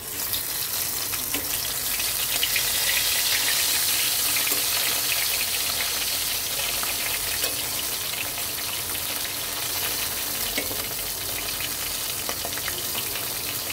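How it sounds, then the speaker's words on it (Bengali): Tengra fish fry in hot oil, giving a continuous loud, close sizzle with bubbling and faint spatters that hold steady throughout, with no voices. "তো এখন আমি গরম তেলে ট্যাংরা মাছগুলি দিয়ে দেব।"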